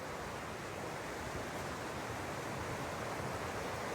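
A creek in the Quinault Rainforest of Olympic National Park, Washington, flows with a steady, even rush of water, close and continuous, with no voices.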